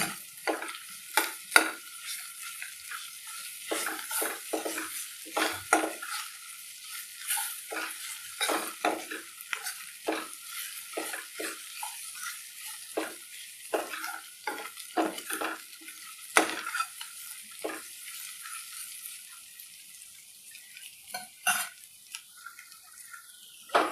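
A teaspoon of ginger-garlic paste frying in a pan for egg masala curry, with repeated spatula scrapes and taps over a thin sizzle, close and continuous with no speech.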